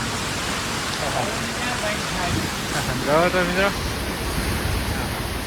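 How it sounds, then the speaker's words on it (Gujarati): Heavy rain with gusting wind during a violent storm in a Botad village, a steady broadband roar running throughout while someone talks over it. "વરસાદ થઈ ગયો જોરદાર ચાલુ"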